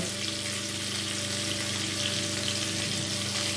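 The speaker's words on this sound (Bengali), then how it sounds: "আমি ফুলকপিটা ভালো করে ভেজে নেব" Cauliflower fries in hot mustard oil in a wok, giving a steady, dense sizzle that holds even and close throughout, with no voices.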